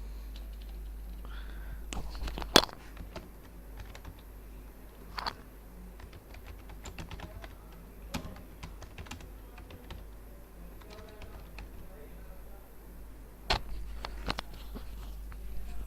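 Typing on a computer keyboard while working in Excel, scattered quiet key clicks and a few sharper taps spread over about sixteen seconds above a low steady hum.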